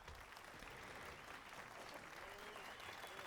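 Applause in the video game The Witcher 3, a steady wash of many hands clapping from a crowd, fairly faint and continuous throughout with no talking.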